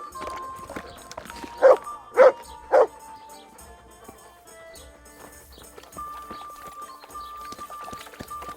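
A dog in the medieval role-playing game Kingdom Come: Deliverance gives three short, loud barks in quick succession over soft background music and game ambience.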